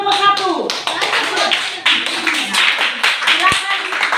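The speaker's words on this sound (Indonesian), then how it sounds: "tepuk tangan buat kelompok 1" Schoolchildren in a classroom clap for a group in a brief burst, with voices talking over and after the clapping.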